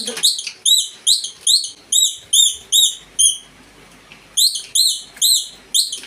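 Sparrows chirp in quick repeated bursts, a run of about eight sharp, close calls, then a brief pause and another run of five, loud and alone against a quiet background.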